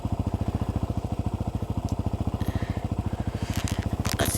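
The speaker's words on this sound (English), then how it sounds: "I'm gonna use my dirt bike that I own." A dirt bike engine in the video game Vehicle Legends runs steadily with a fast, even putter that builds slightly toward the end, loud and close, with faint clicks over it.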